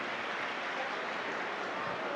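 Steady, dense applause from a large crowd at a Shiv Mahapuran katha gathering in Gharaunda, Karnal, Haryana, a continuous even wash of clapping with no breaks.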